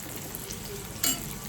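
Onions and green chillies sizzle steadily in a pan for a brinjal and capsicum fry, with a brief louder burst of frying partway through and no talking.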